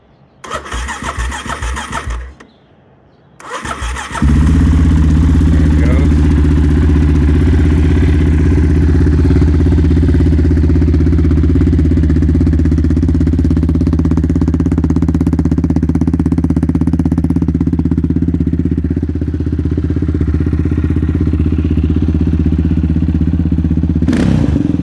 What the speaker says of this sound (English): let's see if he'll start up, and we can give you a preview of the exhaust